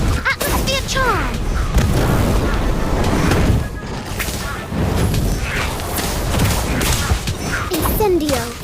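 Magic spell effects burst in Harry Potter Magic Awakened, loud whooshing blasts and booming impacts layered with game voices and music in a busy, continuous barrage.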